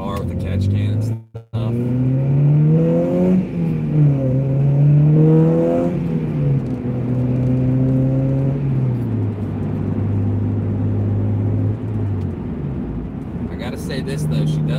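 Car engine with a Honda K-Pro unit, fitted with a catch can, idles and revs in rising and falling sweeps, loud and close, with a voice talking over it.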